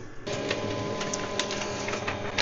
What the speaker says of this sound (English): just press the green copy button on the control panel and wait for the copy